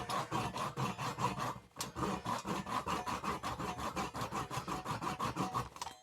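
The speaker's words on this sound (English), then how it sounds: "We just use our same little Japanese handsaw." A small Japanese handsaw cuts through the wooden tip of a spear for a woodturned gnome, giving steady close rhythmic rasping strokes with one brief pause, loud and alone.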